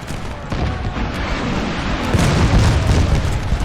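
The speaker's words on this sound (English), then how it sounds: "My howitzers trying to help out in this fight here." Booming howitzer artillery fire in a Napoleon Total War battle at Waterloo, a dense continuous rumble of cannon blasts that swells louder toward the end, with no talking.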